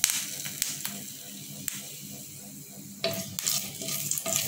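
Cinnamon, cardamom, cloves and cashews for chicken pulao frying in hot oil, with a steady soft sizzle broken by several sharp stirring scrapes and clinks of a utensil against the pan, close and fairly quiet.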